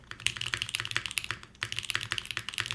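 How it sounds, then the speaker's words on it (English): Fast typing on a hot-swap mechanical keyboard with a Univers build, a dense close clatter of key strikes with a brief pause midway before resuming. "I'm going to try a different spacebar in here, though, just to see what it sounds like."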